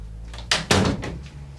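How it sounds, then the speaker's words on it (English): An interior door pushed shut in a room, two quick knocks of the door and latch followed by a fuller thud, near and fairly loud, with no talk over it. "Mind if I close the door?"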